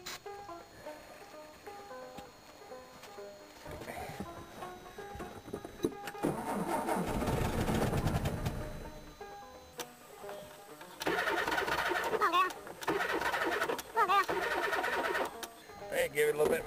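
A 1964 VW Beetle engine cranks repeatedly in several loud bursts of rhythmic starter churning, separated by pauses, with the car failing to fire. Voices talk quietly in between.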